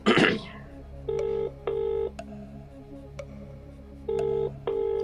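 A telephone dialed on speakerphone during a quiz-show phone-a-friend call: a short burst of noise, then several evenly spaced touch-tone beeps separated by short gaps, with people talking faintly in the background.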